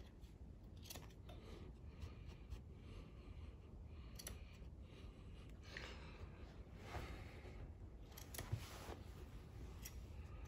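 Carpet being trimmed with a cutting tool after seaming, a quiet series of faint snipping and scraping strokes over steady low background noise, with one sharper tick near the end.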